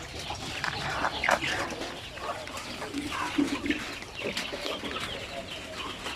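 RTL Basilan laying hens clucking in a Philippine backyard coop, a busy flock of soft, overlapping clucks and calls amid steady rustling and background noise, no talk.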